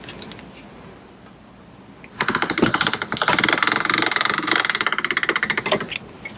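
A hand-cranked pasta machine with non-stick rollers presses polymer clay into a sheet, giving a close, rapid, rattling mechanical clatter that begins suddenly after a quieter stretch and keeps going to the end.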